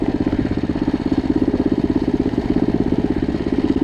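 A Loncin 110/125 motorcycle engine rumbles steadily with a throbbing, pulsing exhaust note, close and moderately loud, without speech.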